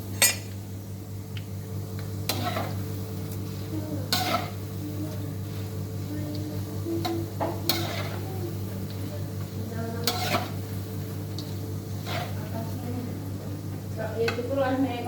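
Otak-otak fish cakes fry in yellow oil with a steady low sizzle, while a utensil stirs and scrapes the pan in repeated clinks and pot knocks, close by under occasional talk.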